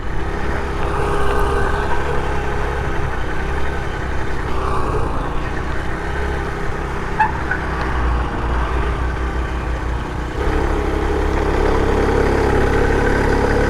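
A 49cc four-stroke motorized bicycle engine runs steadily and close by, a continuous buzzing drone with little change in pitch that swells slightly near the end.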